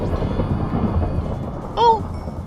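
Rumbling thunder from a Minecraft thunderstorm, a low continuous roll with rain-like texture, swelling briefly near the end alongside a short sharp in-game sound.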